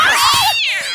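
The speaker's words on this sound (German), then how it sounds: "Was war das für eine Katze?" A scary cat screech in the Minecraft Escape the Cat map: one loud, close, wavering yowl rising and bending in pitch, followed by a second shorter wail.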